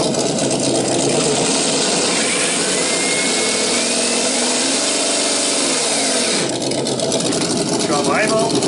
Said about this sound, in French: Si tu mets la première, comme le véhicule avance très lentement